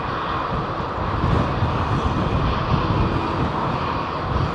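Two jets, a Qatar Boeing 777 and an Air Canada airliner, taking off close together at London Heathrow: a loud, close, dense engine roar that swells slightly and stays steady, with no voices.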